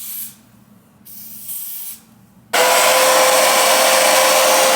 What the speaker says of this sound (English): I'm going to be using 3 layers of the lace spray.